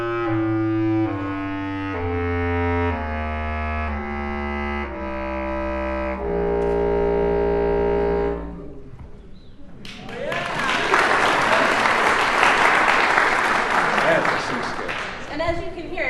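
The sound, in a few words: low C bass clarinet playing its lowest notes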